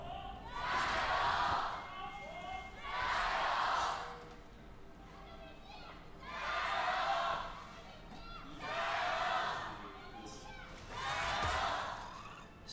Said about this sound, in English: You can hear the crowd live and alive here to be supporting their teams